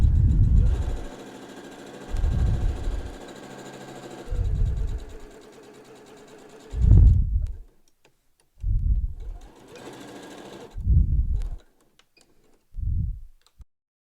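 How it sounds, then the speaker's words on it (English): Sewing machine back stitching across the straps of a fabric face mask, running in seven short bursts of rapid stitching with brief quiet pauses between them, close and fairly soft. "Back stitching over the straps, and then I'll come over to the other side, the other long edge, and do the same thing."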